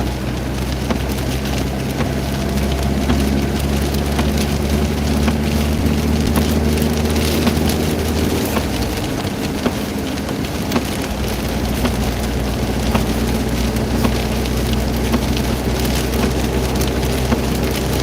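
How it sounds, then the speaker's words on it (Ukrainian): Heavy rain drums steadily and loudly on a surface nearby, a dense continuous patter under a low rumbling hum, with no talking. "Дощ!"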